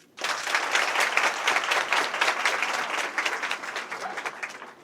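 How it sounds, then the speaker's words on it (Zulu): Sustained applause from an audience at a secondary school event, many hands clapping loudly and continuously after a sudden start. "Shaya izandla."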